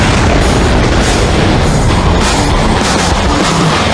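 A loud, sustained roar and rumble of an incendiary device exploding inside a loaded helicopter, dense and continuous for the whole few seconds with no voices.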